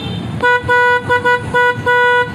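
A loud, piercing PIAA horn on a 2022 Yamaha Sniper 155R motorcycle honks in a stuttering pattern of about six blasts, some short and some held, close by.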